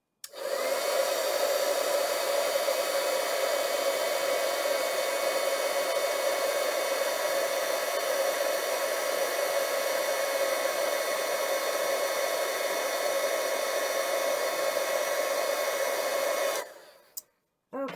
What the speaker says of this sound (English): Plug in my heat tool, and now we're going to heat this up.